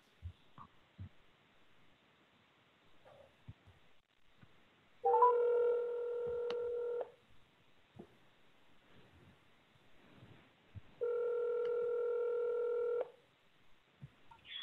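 Electronic telephone tones from an outgoing call placed to a city council meeting caller, two long steady two-second tone bursts several seconds apart, heard faintly over low background noise.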